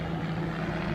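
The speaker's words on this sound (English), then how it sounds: "I have a helicopter flying up" A helicopter flies overhead during an outdoor job changing a Seadoo jet ski battery, giving a steady droning hum with a low throbbing rotor tone and no voices.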